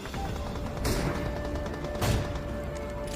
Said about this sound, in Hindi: तभी पीछे से फायर हुआ।